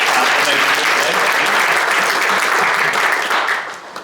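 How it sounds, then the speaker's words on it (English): Sustained audience applause at a business summit's strategic storytelling panel: dense, steady clapping from a crowd that fills the room, then tapers off in the final half-second. "can I get a very, very quick round of applause for the three of them"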